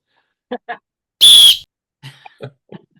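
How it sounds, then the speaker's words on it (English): A single sharp referee-style whistle blast, loud and held for about a third of a second, signals the start of a game, with brief scattered sounds and murmurs around it. "so blow that whistle and let's get into the predictions"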